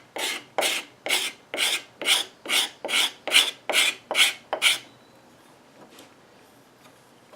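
Rhythmic rasping strokes as a file or rasp shapes a wooden furniture leg, about eleven even scrapes in a steady back-and-forth pattern, close and fairly loud, then stopping into near quiet with a few faint touches.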